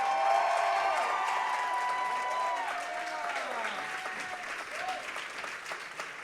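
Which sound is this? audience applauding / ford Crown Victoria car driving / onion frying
audience applauding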